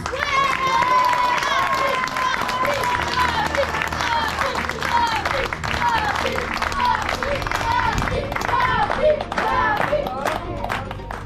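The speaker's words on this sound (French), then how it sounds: "Merci d'applaudir Papy pour lui remettre son Oscar." An audience at a reading-hut inauguration applauds an older man receiving an award, sustained clapping running under a steady voice throughout.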